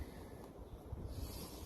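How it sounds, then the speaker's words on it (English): Gusty wind buffets the microphone with a low, rough roar, fairly quiet and unbroken. "Nice windy day, baby."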